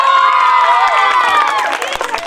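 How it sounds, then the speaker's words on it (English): A crowd of schoolgirls at a result announcement ceremony for co-curricular activities claps and cheers for the rival team, dense continuous applause mixed with excited voices and shouts, loud and close throughout. "So I request that Roses team please clap for the Jasmine's team"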